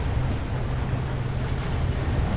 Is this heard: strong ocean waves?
yes